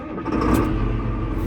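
A 1993 tractor engine cranks and fires up inside a barn on a wet day, producing a loud, steady, close rumble that builds quickly and holds without pause.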